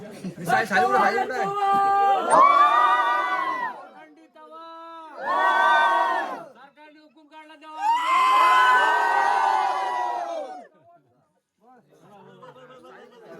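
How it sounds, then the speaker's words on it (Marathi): Village Holi ritual 'bomb' cries from a crowd: loud, chanted shouting in three long swells separated by short pauses, with a speaking voice also present. "आता बोंब मारण पण झालेले आहे"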